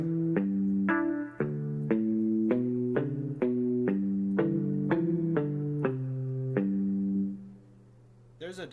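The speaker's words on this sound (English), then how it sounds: "muted guitar." Muted guitar voice on a Roland GO:KEYS 3 keyboard, a run of about a dozen short, clipped plucked notes in a steady rhythm, close and clear, ending in a brief pause with a faint click.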